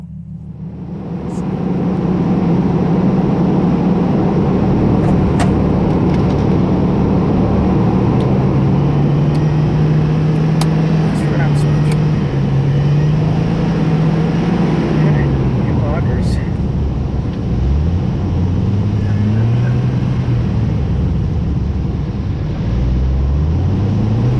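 A four-wheel-drive vehicle drives along a snowy track toward a site a quarter mile away, its engine a loud, steady low drone throughout with rising and falling tonal shifts, and people talking over it.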